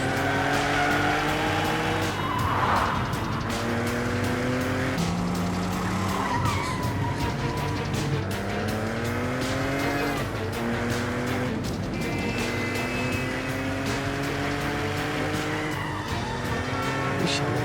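A car driven very fast in a dramatic scene skids with long sliding tire squeals over a continuous engine roar throughout, loud and close, while tense music plays underneath.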